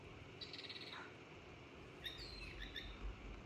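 Faint, high chirping bursts from a new cat toy mouse, like small birds twittering, a few short phrases over a quiet background hiss.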